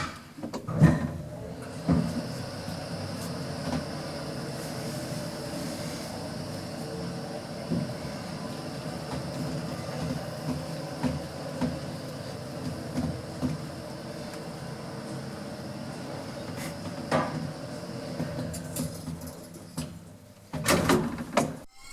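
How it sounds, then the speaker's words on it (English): Passenger lift in Cologne, Germany, ridden with its inner doors disabled, giving a steady low hum of travel bracketed by door clunks and rumbling movement at the start and end, fairly quiet and close. "Let's ride this lift with the inner doors turned off."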